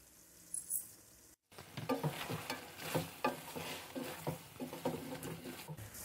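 Chicken with spices, coriander, chili flakes and cumin, frying in a kadai, giving a steady sizzle with repeated stirring scrapes and clatters after a brief silent gap near the start.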